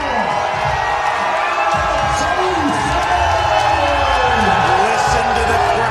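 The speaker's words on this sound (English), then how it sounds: "Listen to the crowd. They are electric." A crowd at a pickleball doubles tournament fills the space with continuous loud cheering and shouting, as ball hits and squeaking shoes cut through the roar.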